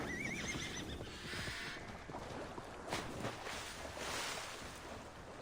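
A horse in the video game Assassin's Creed Valhalla whinnies clearly at the start, followed by steady clip-clop hoofbeats with a soft wash of water or wind behind.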